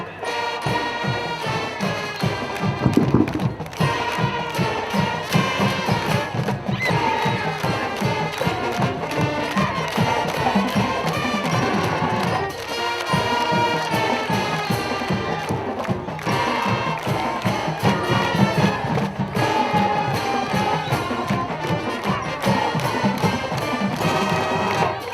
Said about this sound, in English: give the Salmen Spartanettes, the Silk Spinners, and the band a big round of applause as they play your Salmen fight song